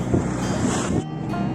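A catamaran under sail at sea off La Gomera, with loud, steady rushing water and wind buffeting close to the mic that drops briefly before resuming.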